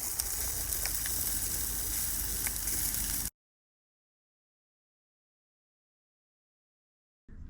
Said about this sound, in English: Sausages are getting cooked